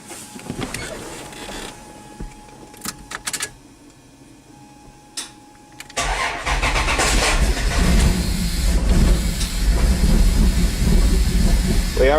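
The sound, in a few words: Dodge Dakota 3.9 engine starting and running after Megasquirt install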